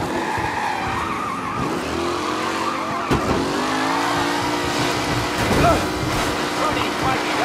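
Race cars on the final lap in Mafia Definitive Edition, engines droning and shifting pitch with tire squeal and skidding, the noise swelling and fading as the cars pass.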